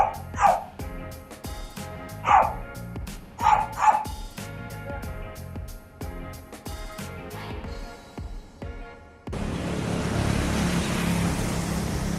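A dog barks four or five times in quick, loud bursts, with engine noise in the background, then a steady broadband wash of rain and road noise takes over.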